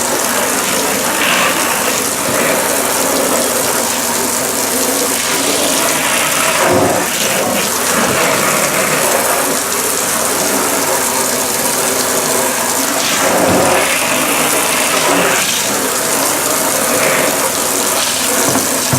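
Water runs steadily from an RV shower head during de-winterization, a loud continuous spray and gush with slight rattling, occasionally dipping briefly before resuming.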